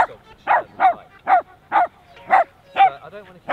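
A black dog barks repeatedly in a park, seven or eight sharp, evenly spaced barks close by with brief pauses between them.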